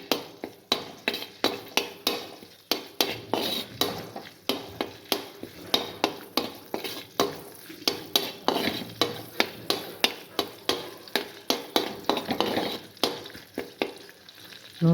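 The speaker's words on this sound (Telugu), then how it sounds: "కొంచెం కరివేపాకు, కొంచెం జింజర్, ముందు కొంచెం ఫ్రై చేసుకోవాలి" Curry leaves and ginger fry in hot oil for an egg curry while being stirred, the spatula scraping the pan in steady rhythmic strokes about twice a second over a constant sizzle, close up, with no talking.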